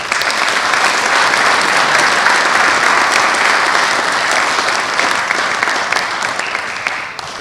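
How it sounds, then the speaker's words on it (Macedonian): A hall audience gives sustained, loud applause to veterans of a basketball club at its 50th anniversary, dense clapping that holds steady and then tapers slightly toward the end. "последниот аплауз за денеска"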